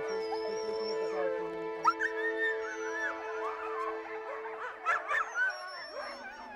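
Several Greenland sled dogs whimper and howl together, with rising wavering cries and short yips overlapping, fairly close and continuous.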